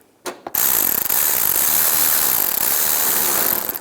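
A power tool drives a 7mm screw while a fog light wiring kit goes onto a Chevrolet Equinox. After two short blips comes a loud, continuous motor whir held for about three seconds, with no talk.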